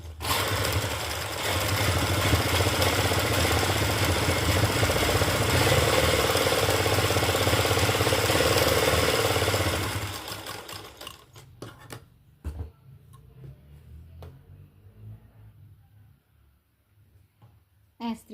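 Sewing machine stitching a sleeve cuff, a loud, steady mechanical whir for about ten seconds, then stopping to quieter handling noises and a person speaking.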